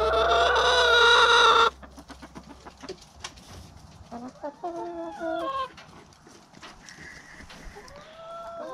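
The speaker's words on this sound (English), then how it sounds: "Chickens are just fine." Chickens on a farmstead: a loud, close rooster crow opens, then hens cluck and squawk intermittently at moderate distance with quieter gaps.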